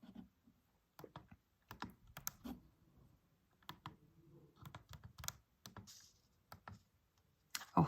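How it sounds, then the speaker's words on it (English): Buttons pressed on a calculator while working a distance calculation for a maths mock paper, a scattered run of light, close clicks and taps arriving in short irregular bursts, with no voice. "And then I can type that into my calculator."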